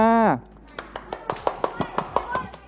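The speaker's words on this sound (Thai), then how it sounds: "ทุกคนครับขอเสียงปรบมือเพื่อนหน่อยครับ" Primary-school pupils in a science class give a classmate a round of applause: a brief voice, then a string of light, uneven claps from a small group, moderately close.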